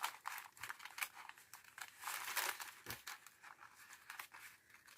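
Sharp-pointed small scissors cutting out a piece of paper tube stock for a model pump house, giving fast, close crisp snips and papery crinkles in a steady irregular run, with no talking.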